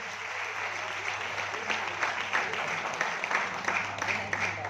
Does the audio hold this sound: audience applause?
yes